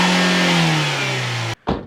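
A 2024 Mazda MX-5 ND3 engine with an opened airbox holds a loud, steady rev with a slowly falling pitch, cuts off abruptly, then blips once more briefly.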